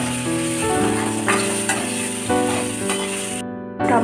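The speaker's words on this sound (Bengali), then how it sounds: "এবার আলুগুলোকে ভালো করে ভেজে নেব" Potato pieces frying in hot mustard oil with salt and turmeric, crackling in a steady close sizzle. Stirring scrapes come at intervals, the sound drops out briefly near the end, then the frying resumes.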